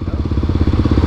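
A motorcycle engine thumps in a fast, even pulse close by, loud and steady for about a second, with no voices over it.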